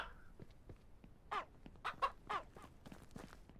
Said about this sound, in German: Hahn, runter von dem Teil da.